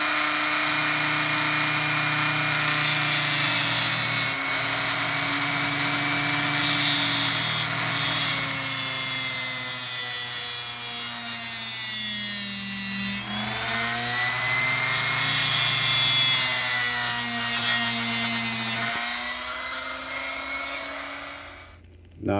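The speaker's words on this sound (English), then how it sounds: "I'm gonna make a hole for my wiring in here using my Dremel and my" A Dremel rotary tool with a cutoff wheel cuts a wiring hole in a Bachmann 0-6-0 model locomotive. It gives a close, steady high-pitched whine for about twenty seconds, its pitch dipping and rising as the wheel bites, with no talking.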